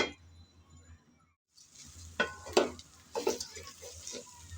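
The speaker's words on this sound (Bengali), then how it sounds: "কিছুক্ষণ যাবৎ নেড়ে চেড়ে আমি চাল ডাল ভালোভাবে ভেজে নিলাম।" Rice and lentils frying for khichuri, stirred in a pan with a soft sizzle, then a brief silence followed by several clinking spatula scrapes against the pan.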